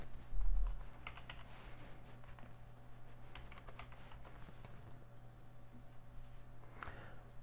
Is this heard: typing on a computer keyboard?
yes